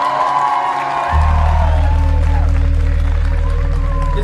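Crowd applause and cheering at an outdoor march for Jesus in Warsaw swells suddenly about a second in, becoming a loud, steady roar of clapping with whoops over a deep rumble that persists to the end.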